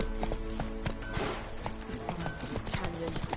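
A horse's hooves in The Witcher 3: Wild Hunt beat a steady, close clip-clop rhythm over a busy backdrop of game sound and voices.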